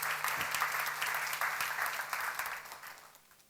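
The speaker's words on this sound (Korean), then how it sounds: "박수 나가세요." A seminar audience at a church Bible study on 1 Samuel breaks into sustained clapping, a dense even wash that holds steady and then fades away toward the end.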